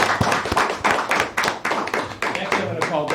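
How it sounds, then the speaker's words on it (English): Audience applause at a mayor and council meeting, a burst of clapping hands with sharp irregular claps, fairly close and moderately loud, continuing steadily for a few seconds. "another round of applause"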